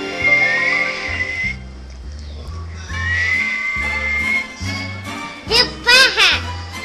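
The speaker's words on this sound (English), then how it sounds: "I'm gonna try to whistle." Someone whistles a few wavering, high notes over music with a steady beat, with lively voices breaking in toward the end.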